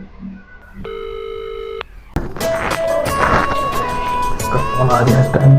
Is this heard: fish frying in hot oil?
no